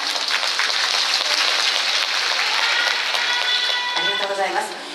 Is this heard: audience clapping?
yes